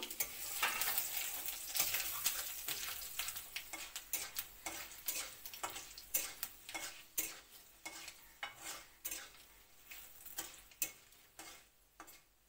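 Dried red chillies, panch phoron and bay leaves fry in hot oil with a steady crackling sizzle, punctuated by a rhythmic run of sharp clicks from stirring in the pan, close and without talk.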